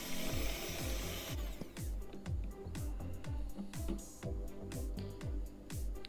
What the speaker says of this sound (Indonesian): Dan kita kocok dengan mixer.